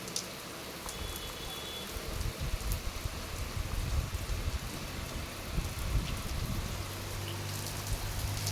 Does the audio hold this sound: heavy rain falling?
yes